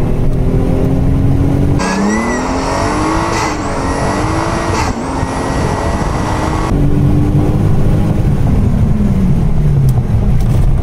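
A 2JZ twin-turbo Lexus IS300 with a 5-speed accelerates hard, its engine note climbing loud and close through rising pulls with shifts in between, then falling away. No one speaks.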